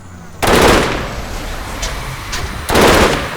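Five-round burst fire from a video game weapon with a 30-round magazine, two loud, sharp bursts a couple of seconds apart with a brief lingering tail and a faint report between them.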